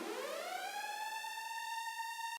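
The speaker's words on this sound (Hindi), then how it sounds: "कई शहरों में लगातार सायरन की आवाज गूंजती हुई दिखाई दे" Air raid sirens sound across a city under attack, a loud, steady wailing tone rising in pitch and holding high, continuous with no speech.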